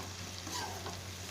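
Vegetables for a veg biryani frying in a pan over a low flame, a soft steady sizzle with faint stirring, short and fairly quiet with no voices.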